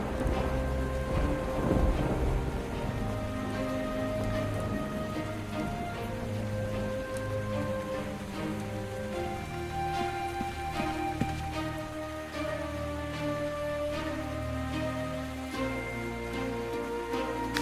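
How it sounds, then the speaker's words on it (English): Rain and thunder in a mystery adventure game, steady rain pattering on surfaces with rumbling thunder rolling underneath, mixed with an ambient music bed throughout, no talk. "This rain reminds me of something."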